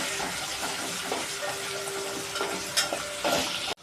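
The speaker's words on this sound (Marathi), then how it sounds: "आता आपण आलं लसूण टाकू, 1 चमचा आलं लसूण पेस्ट" Ginger garlic paste fries with browned onions in a pan for a potato and brinjal spiced rice, a steady close sizzle with a few stirring scrapes near the end; no voices.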